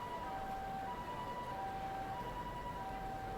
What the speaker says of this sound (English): Apart from the siren,